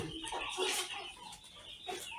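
Seven-month-old chickens on a small farm cluck softly with a handful of short, nearby calls, some overlapping, against a quiet background.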